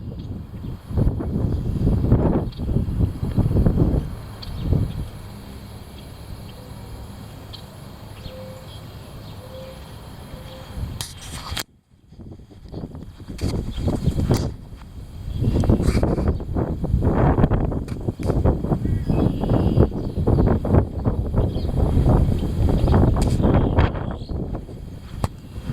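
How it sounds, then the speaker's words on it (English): Heavy wind blows outdoors on a freezing day, rushing and buffeting loudly in ragged gusts close to the microphone, with a brief lull partway through before it roars back. "The heavy wind."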